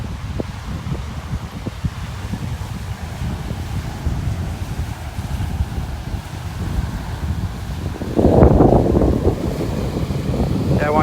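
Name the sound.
fierce wind on a beach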